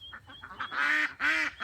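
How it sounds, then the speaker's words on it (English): Several ducks call back and forth on a Vermont farm, a run of short quacks building into two loud, drawn-out honking calls close by with a brief pause between them. "Those ducks are talking to each other."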